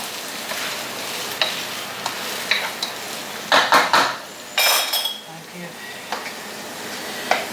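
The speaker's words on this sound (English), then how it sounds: "So I'm just going to give that a quick stir." A spoon stirs a thick fish curry in a pan, giving soft scraping and clinking against the metal with a few sharper knocks over a low background sizzle, close by and without talk.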